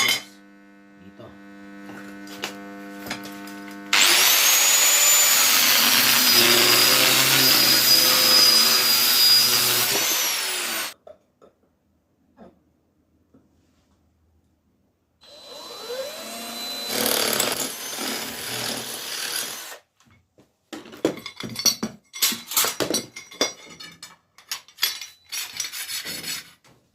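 A power tool cuts metal for a garage hook, a loud continuous whining grind for several seconds near the microphone, then quiet, then further rough bursts of grinding and scraping with pauses between.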